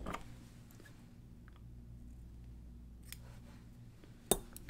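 Scissors snip through fly-tying material for a green shad squishy head streamer, a single sharp close cut near the end after quiet low hum and faint handling noises.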